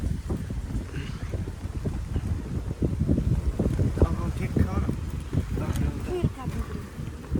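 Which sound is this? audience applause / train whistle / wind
wind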